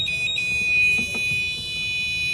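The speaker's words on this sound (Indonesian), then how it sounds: "dalam jarak 0 sampai 20 cm itu statusnya bahaya dan suara buzzernya semakin keras." A motorcycle anti-theft detection buzzer sounds a steady high-pitched electronic tone continuously, with a brief stutter at the start and faint low background noise.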